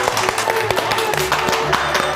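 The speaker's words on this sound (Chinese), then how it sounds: "我们先掌声先祝贺一下哈。" A studio audience at a televised Chinese folk-singing competition claps together in a brisk, even burst of applause, fairly close and loud, with music faintly underneath.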